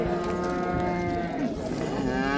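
A red cow at a rural livestock bazaar in Qashqadaryo moos loudly and close by, one long drawn-out low call lasting the whole moment, with faint market background behind it.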